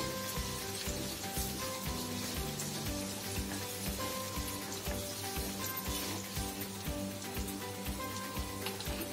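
Onions sizzle steadily in a hot pan as the first step of a homemade restaurant-style paneer butter masala, a dense continuous frying hiss with faint stirring scrapes, close and loud, with no voices.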